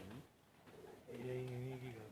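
Pet pigeons coo in a soft, throaty rolling call that swells and holds in the latter half, close by, with faint background noise.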